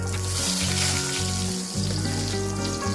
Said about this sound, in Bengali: জিরাটা একটু ভেজে নিয়ে একটা বড় সাইজের তেজপাতা মাঝখান দিয়ে এভাবে ছিঁড়ে দিয়ে দিলাম।